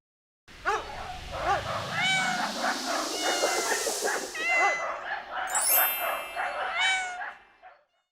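Many cats meow repeatedly in an animal shelter's cat room, overlapping calls close by and fairly loud throughout, with no one speaking.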